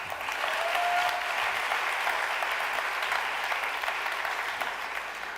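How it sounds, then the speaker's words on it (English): Steady, dense applause fills an award ceremony hall for a presenter at the Solar Decathlon final ceremony, a full audience clapping continuously at an even level throughout. "Extra applause to her."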